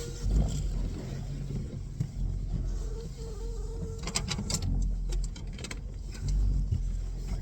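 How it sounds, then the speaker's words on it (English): A boat's electric trolling motor on a lake runs erratically with a steady whine and irregular clicks and knocks, close and moderately loud, with wind and water noise around it. "Frickin' trolling motor's going haywire this morning."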